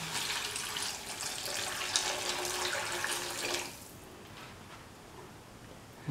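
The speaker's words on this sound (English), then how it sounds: "Pour in 4 to 5 cups of water." Water pours steadily into a cooking pot of yam with spices, a full rushing splash for several seconds, then stops, leaving a quiet room tone.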